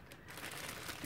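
A plastic bag being crunched and wrinkled by hand for an art journal print, giving a soft, steady crinkling texture close by, with no talk.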